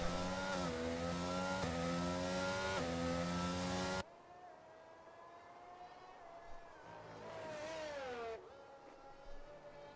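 An F1 car on track at Imola in F1 22 gives a high whining engine note that climbs through the gears, then drops to a fainter, distant pitch that rises again.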